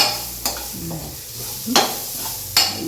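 Onions sautéing in a pan, a close steady sizzle broken by three sharp scraping stir strokes spaced about a second apart.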